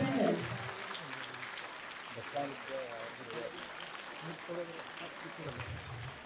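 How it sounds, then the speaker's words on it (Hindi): An audience applauds at a Constitution Day event in Kalka, a steady wash of clapping that holds at moderate loudness throughout, with voices faintly mixed underneath. "जोरदार तालियों से आज के सभी मेहमानों का अभिनंदन।"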